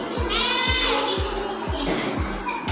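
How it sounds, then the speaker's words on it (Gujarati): A goat bleats in a quavering, pulsed cry, close and loud, followed by a shorter second bleat near the end. "બકરી"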